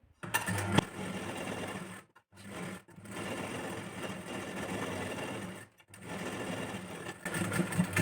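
Sewing machine stitching the lining of a cotton princess-cut blouse sleeve, running in bursts of rapid mechanical whirring with short pauses between runs, close and clear.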